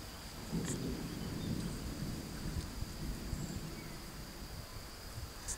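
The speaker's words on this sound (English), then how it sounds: "don't know if you could hear that just now thunder in the background right there" A low, faint rumble of distant thunder in Bavaria rolls under steady insect chirping and a soft background hiss, with no voices.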